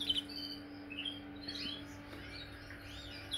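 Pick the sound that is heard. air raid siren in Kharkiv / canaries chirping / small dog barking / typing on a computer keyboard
canaries chirping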